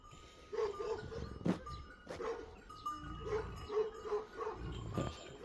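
A dog giving a few soft, short barks and whines, fairly quiet and spaced out, with some rustling in between.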